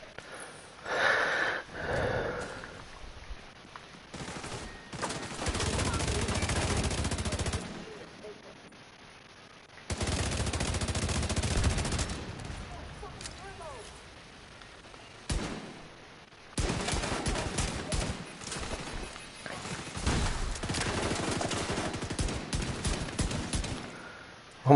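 Gunfire from a pistol and other weapons in The Division 2, played on PS5: sharp shots and bursts in several loud stretches separated by quieter gaps, with voices talking at times.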